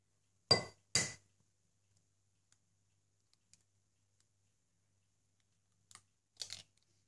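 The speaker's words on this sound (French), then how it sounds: "Ensuite, vous ajoutez vos œufs." Eggs cracked into a bowl in a home kitchen give two sharp clinks close together, a long quiet gap, then two more clinks with a soft wet slide, all close and alone.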